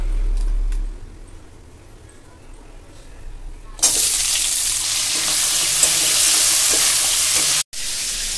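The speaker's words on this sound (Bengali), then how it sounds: "এবার এই কাঁকড়ার এই পাগুলো দিয়ে দেবো ভাজবার জন্য।" Crab legs hit hot oil in a pan and burst into a loud, steady sizzle that continues for several seconds after a quiet start.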